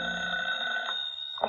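An old-style telephone bell rings steadily and close in a radio drama scene, a bright sustained ring that stops just before the end.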